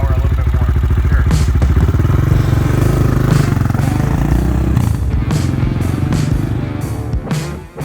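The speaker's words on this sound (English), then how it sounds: "It fired right up. And the idle's coming right down." A Honda 400EX quad, fitted with a big bore kit and cam, idles loud and close with a steady, throbbing low rumble that runs unbroken before easing off at the very end.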